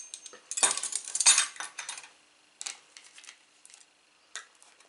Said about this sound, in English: I've got my measuring spoons here, and I'm going to add a teaspoon of that